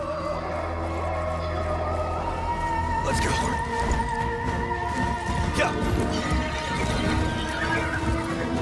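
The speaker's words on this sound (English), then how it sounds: "Oh my god, it's a horse." A horse whinnies and its hooves clatter in Warframe's Duviri Paradox, loud and close over busy game ambience, with someone briefly talking across it.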